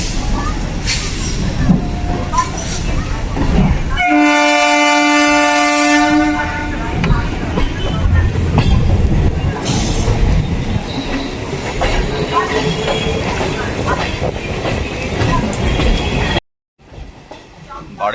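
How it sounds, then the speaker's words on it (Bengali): A Sonarpur–Champahati local train runs in the rain, its loud rumble and clatter broken by a sustained horn blast partway through, with voices underneath and an abrupt cut near the end. "আজকে আমাদের জার্নি হচ্ছে শিয়ালদা ডিভিশনের দ্বিতীয় short distance local train journey"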